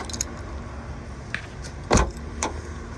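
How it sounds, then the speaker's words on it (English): A Honda Civic door lock clunks shut as a key turns in a newly fitted door cylinder: a few light metallic clicks, then one solid close thud and a softer click after it, with no voices. "You can hear the car is locking."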